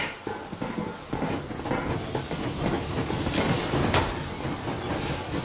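The steam train Yermak in the video game Metro Exodus gives off a broad, loud hiss of steam with rumbling, rattling rail noise beneath, building steadily and staying dense throughout.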